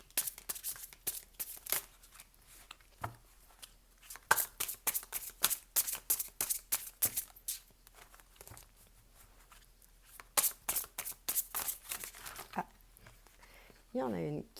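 Cards drawn and shuffled from a deck during a tarot reading: repeated crisp flicks and riffles in bursts, close and clear, with someone speaking French between them.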